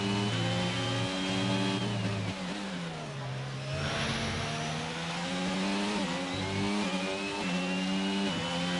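An AlphaTauri Formula 1 car in a racing game screams at high revs, its engine pitch climbing through gears, dipping as it lifts and brakes, then wailing up again, loud and continuous.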